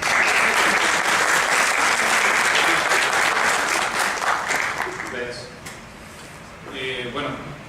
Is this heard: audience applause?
yes